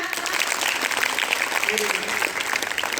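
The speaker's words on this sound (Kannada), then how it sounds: "ಒಳ್ಳೆ ಚಪ್ಪಾಳೆ ಬರಲಿ ಮಕ್ಕಳ" Children at a school event clapping together in a steady rattle of many hands, with a voice speaking over the applause.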